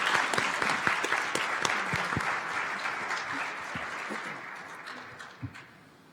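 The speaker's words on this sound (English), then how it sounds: "A round of applause for our panelists today." Conference audience applauding panelists at a spring conference on housing, homelessness and child welfare, a dense wash of many hands clapping that holds steady, then thins and fades toward the end with a few scattered claps.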